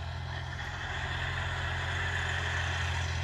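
A John Deere 5050D tractor engine runs steadily close by, a constant low idling drone with a harmonic hum and an even, unbroken loudness throughout.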